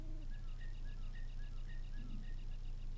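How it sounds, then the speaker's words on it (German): Soft insect-like chirping repeats steadily over a low droning game soundtrack in Zelda: Majora's Mask, a faint, regular pulse of high trills sitting in the quiet background. "die Musik, die man im Hintergrund hört, dieses leise Zirpen"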